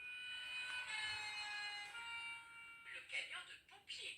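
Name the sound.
fire engine siren from a children's sound book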